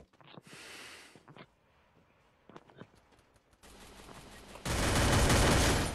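Gunfire in a shooter video game comes in bursts, with brief sharp shots and then a loud sustained stretch of rapid automatic fire toward the end, mixed with breathing sounds.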